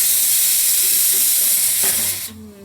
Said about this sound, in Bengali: জল ফুটে গেছে